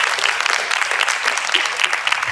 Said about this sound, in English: huge applause for all of you